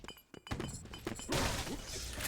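Grenades exploding in a fast multiplayer shooter, a few sharp thunking blasts followed by a broader rumbling burst, loud against steady game noise, with faint commentary in the clip.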